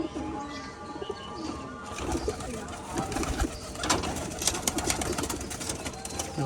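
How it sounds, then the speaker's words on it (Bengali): Rajshahi pigeons coo softly nearby while being caught from their enclosure, with rustling and light handling noises building up over the calls. "দেখুন পায়রা ধরা হচ্ছে।"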